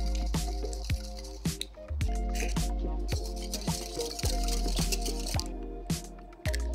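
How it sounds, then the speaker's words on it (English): Eggs whisked one at a time into a custard base for a chocolatey pound cake bread pudding, a steady run of quick, wet rhythmic strokes against the bowl, close and clear over a soft musical background. "I'm just gonna add my eggs one at a time, whisking them really well to combine before I add the next one"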